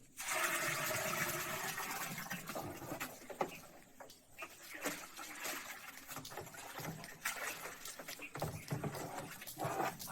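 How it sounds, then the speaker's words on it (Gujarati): Gram flour (besan) slurry mixed with water is poured into a barrel of water, giving a steady, continuous rushing and splashing pour close by, with a few louder gurgling surges. "જેનો રગડો બનાવેલો છે, પાણીમાં મિક્સ કરેલું છે, એ આપણે અંદર નાખીએ છીએ"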